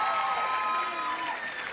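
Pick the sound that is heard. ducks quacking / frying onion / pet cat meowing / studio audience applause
studio audience applause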